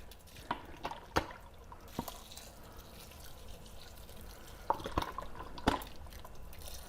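White wine vinegar trickles and drips from a bottle with a spout that limits pouring, in faint, irregular drops and small splashes over a quiet background while canning dill relish.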